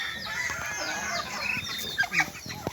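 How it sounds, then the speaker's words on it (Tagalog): Ducks being fed by hand in a rural Philippine province, giving busy overlapping quacks and clucking calls that go on steadily throughout, with a few louder nearby calls near the end. "Magpakain po kami ngayon ng mga itik."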